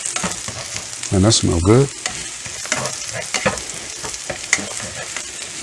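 Garlic frying in a pan for breakfast tacos, a steady sizzle running throughout with stirring clatter, while someone talks briefly over the cooking.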